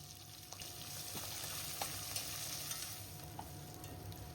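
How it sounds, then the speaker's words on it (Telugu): Green chillies and sliced onions frying in oil for khushka rice, a faint steady sizzle with small crackles and occasional stirring taps. "ఉల్లిపాయలు ఈ విధంగా బాగా ఫ్రై అవ్వనివ్వాలి"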